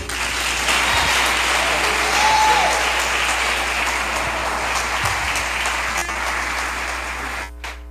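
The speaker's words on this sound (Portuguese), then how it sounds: "Quantos querem receber o servo do Senhor com aplauso a Jesus?" A church congregation at a revival conference claps to welcome the preacher, sustained crowd applause filling the room with a faint tone under it, tapering off near the end.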